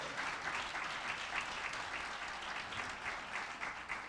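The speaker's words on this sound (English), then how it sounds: "Please give them a round of applause." Sustained applause from an audience, a dense even wash of clapping that continues steadily from start to finish.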